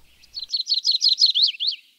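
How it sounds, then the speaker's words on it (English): Yellow-rumped warbler and Cassin's vireo singing in a redwood forest preserve: a bright, rapid run of high chirping notes rising in loudness, ending in a few slurred whistled phrases, clear and alone without any talk. "We hear the sound of the yellow-rumped warbler and Cassian's vireo"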